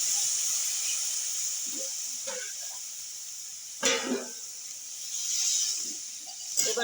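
Water poured into a pan of winter vegetables being sautéed, giving a steady steamy hiss and sizzle with a few sharper splashy bursts near the end.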